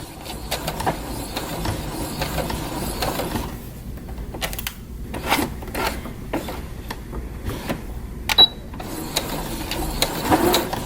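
A sewing machine stitches slowly along a sunglasses case, giving a quiet, steady mechanical whir with light ticking and a few brief pauses, including a short sharp click near the end.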